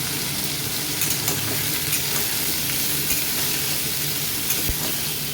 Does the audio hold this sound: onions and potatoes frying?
yes